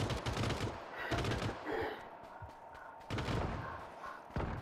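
Bursts of automatic gunfire in a PUBG: Battlegrounds match, several loud rapid volleys separated by short pauses, with no talk over them.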